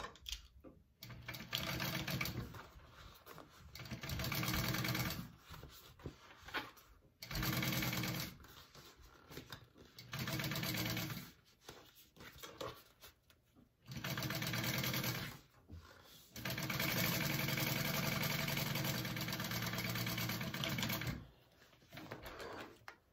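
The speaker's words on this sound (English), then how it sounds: "you're going to press the seam allowance down towards the bottom piece and top stitch that" A sewing machine topstitches a seam on a crossbody bag add-on in repeated bursts of steady mechanical whirring, some short and some longer, with quiet pauses between runs.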